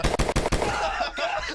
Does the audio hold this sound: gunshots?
yes